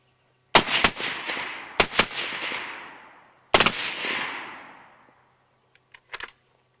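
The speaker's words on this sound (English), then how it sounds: "I'll just fire a couple semi rounds. And I'll throw this fun switch" Suppressed rifle firing outdoors at a fun shoot, first a few separate semi-automatic shots, then short full-auto bursts, each loud and close with a long ringing decay, followed by faint distant pops.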